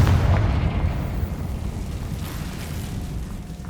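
A deep, rumbling blast from the Confringo fire spell in Hogwarts Legacy, a booming explosion that rolls on and slowly fades over a few seconds, loud and without speech.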